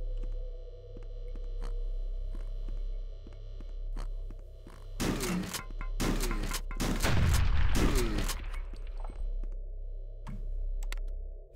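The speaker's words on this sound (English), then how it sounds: "Oh, so are people really lighting fireworks?" Fireworks going off outside in a few loud, sharp bursts and crackling volleys, clustered in the middle of the stretch and standing out over a steady indoor hum.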